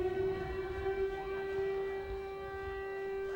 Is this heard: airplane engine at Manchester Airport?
no